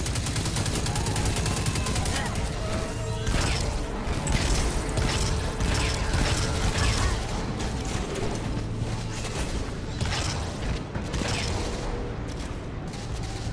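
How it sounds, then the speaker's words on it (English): Dense bursts of gunfire and explosions in Destiny 2 crackle nonstop, loud and chaotic, layered over a droning mechanical background with no letup. "There's a lot of explosions."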